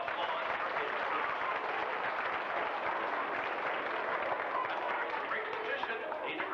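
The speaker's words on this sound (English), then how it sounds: "let's give my friend a round of applause for his group" Sustained applause from a live audience at a magician's show, a steady wash of many hands clapping that fills the whole stretch, with a crowd murmur underneath.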